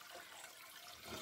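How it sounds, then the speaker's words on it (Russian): Filtered water poured from a water filter into a container, a steady soft splashing trickle that continues throughout, quiet and close with no talk. "Вот, набираю вторую воду с фильтра."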